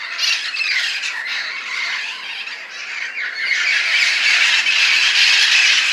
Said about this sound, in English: Wild parrots are coming from all over the place to come to this tree.